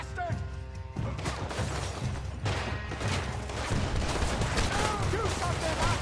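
Rapid gunfire in Red Dead Redemption 2, a dense, continuous barrage of shots and crashes filling the scene, loud and close, with shouting voices mixed in.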